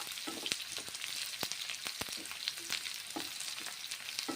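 Onions sizzling in hot oil as they are stirred, a constant soft crackle punctuated by sharp scraping clicks of a utensil against the pan, fairly quiet with no talking.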